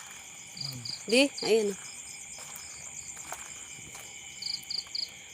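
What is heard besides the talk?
crickets chirping in the dark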